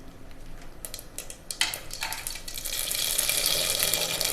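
Whole spices such as fennel, cinnamon, cloves and bay leaf frying in hot oil for tomato rice in a cooker, with quiet clinks at first and then a fairly soft, steady sizzle that swells toward the end.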